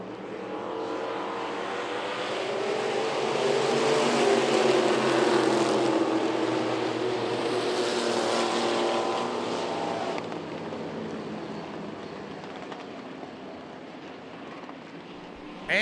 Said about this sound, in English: Green flag in the air for Division 2 of the vintage cars.